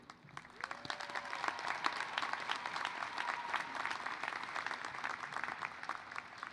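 A commencement audience at a CSUN graduation ceremony applauds faculty and staff, a dense, steady wash of many hands clapping that holds evenly throughout, with a brief faint tone early on.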